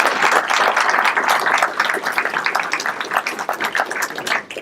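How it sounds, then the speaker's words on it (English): A ceremony audience claps for a police command team at a swearing-in, a dense, steady round of applause filling the room for several seconds before thinning out at the end. "I'd like to just ask for a round of applause for the members of our command team that are here with us today."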